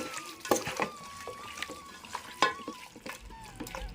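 Ingredients for chicken dum biryani, including a squeeze of lemon, are mixed by hand or spoon, giving soft wet squelches and scraping. A few sharper clinks stand out against a quiet background.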